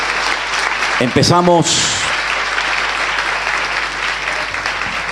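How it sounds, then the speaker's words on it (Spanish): A church congregation breaks into loud sustained applause, a dense crackle of clapping that fills the room throughout, with a voice speaking briefly near the start. "Fuertes aplausos para el Señor."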